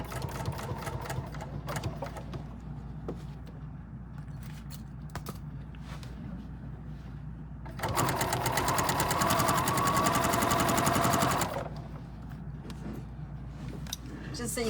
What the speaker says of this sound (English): Then I'm going to back stitch.